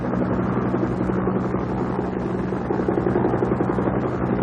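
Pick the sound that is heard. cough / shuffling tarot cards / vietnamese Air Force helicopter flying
vietnamese Air Force helicopter flying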